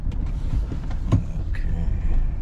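A Kia Soul with a hard-shifting transmission fault drives and swings through a U-turn, giving a low, steady engine and road rumble from inside the cabin, with a few faint clicks and knocks.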